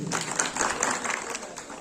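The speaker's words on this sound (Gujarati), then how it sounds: "એટલા માટે તાળીઓ પાડી દો" Applause from the audience at an Aam Aadmi Party meeting in Bagasara: steady clapping from a crowd, fairly near and even, lasting the whole short stretch.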